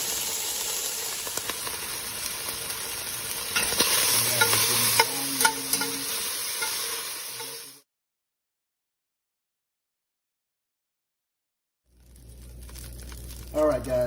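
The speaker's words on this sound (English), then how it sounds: "Now we're gonna brown these on each side." Beef stew meat browns in a hot pan, giving a steady loud sizzle and hiss with stirring scrapes for several seconds, then dead silence before the frying resumes near the end, with some talk over it.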